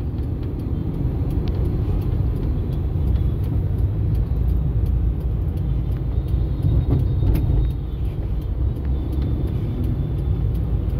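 Dense road traffic at the four-level Nguyen Trai – Ring Road 3 interchange in Hanoi, a constant loud rumble of cars and buses with passing engines, occasional air-brake hisses and faint horn-like blips, no speech.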